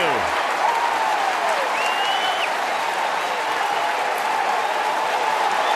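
A baseball stadium crowd, with Pittsburgh playing at Detroit, applauds and cheers steadily, a loud unbroken wash of clapping with scattered whistles and shouts rising above it.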